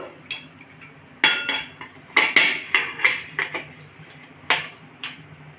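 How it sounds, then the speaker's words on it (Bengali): Metal clinks and clanks of a pressure cooker being opened in a kitchen while checking on a semolina cake, a handful of sharp separate knocks over a quiet background. "এবার কুকারটা খুলে দেখে নেব"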